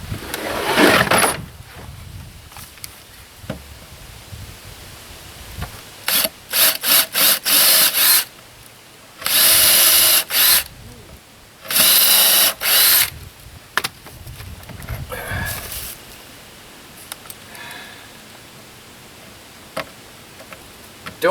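A power drill drives Phillips screws into a tiny house kitchen cabinet, with several loud bursts of whirring motor, each a second or two long, separated by quieter handling and scraping noises, close up with no talk.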